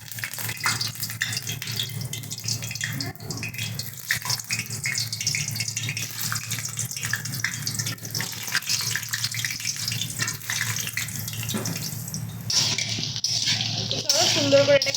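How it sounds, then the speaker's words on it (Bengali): Potato pieces fry in hot oil in a wok for a Bengali mutton curry, giving a steady, close sizzle and hiss that runs the whole time, with a brief louder splutter near the end. "এবার এক এক করে আমরা আলু ছেড়ে ভেজে নেব।"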